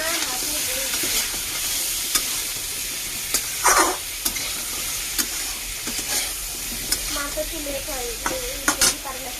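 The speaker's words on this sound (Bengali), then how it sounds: "আমি একটু জিরা তেল দিয়ে ভেজে নিচ্ছি" Cumin seeds frying in hot oil in a pan, a continuous bright sizzle and crackle with scattered utensil clinks and stirring knocks, close and without talk.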